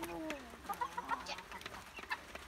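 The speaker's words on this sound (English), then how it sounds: "The big hens are a little curious of them" Hens on pasture near young chicks give a run of short, mid-level clucks and soft calls in an irregular rhythm, close by and with no talk over them.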